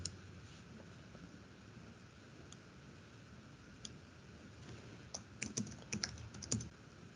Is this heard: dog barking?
no